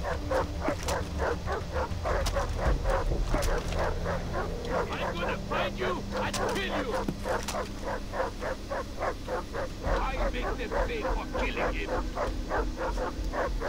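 Dogs in the video game Far Cry 3 bark in rapid, repeated volleys, loud and persistent throughout, with someone talking over them.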